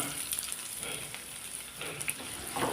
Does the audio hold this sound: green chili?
yes